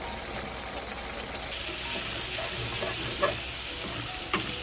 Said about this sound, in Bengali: এখন পরিমাণ মতো সব মশলা দিয়ে ভুনায় নেব, ভুনায় নিয়ে মাংসটা তখন রান্না হবে।